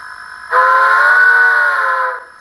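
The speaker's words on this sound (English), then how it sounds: "Long whistle." A Soundtraxx Tsunami DCC decoder in a brass J-1 model sounds a long steam whistle: one loud, sustained, chord-like blast lasting under two seconds, cutting in sharply over a faint background hum and ending abruptly.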